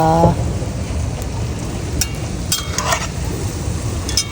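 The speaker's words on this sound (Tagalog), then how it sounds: "Pinirito ko na lahat mga kuante." Dried fish frying in a shallow amount of oil in an outdoor backyard cookout, giving a loud continuous crackling sizzle with sharper pops now and then.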